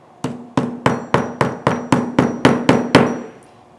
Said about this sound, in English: Then when I like to take a metal hammer